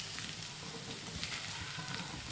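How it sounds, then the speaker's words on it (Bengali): Sabudana khichdi being stirred in a pan after the lid comes off, a steady soft sizzle with scraping and grainy stirring noise running continuously and evenly, close by with no talking. "খুব ভালোভাবে নাড়াচাড়া করে নিচ্ছি।"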